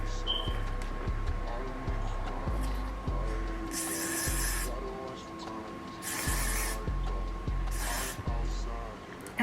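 Several short bursts of aerosol spray hiss out onto a wig, each lasting about a second, over a steady background of music.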